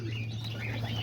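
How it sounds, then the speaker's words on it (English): Black pigeons at their nest with newly hatched babies, soft faint chirps over a steady low hum, close and brief, no voices. "my black pigeons decided to nest over here"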